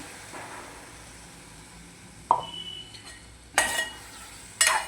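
Green ground paste is stirred into a drumstick curry in a pot, quiet simmering under a few sharp clanks and scrapes of a spoon against the pan.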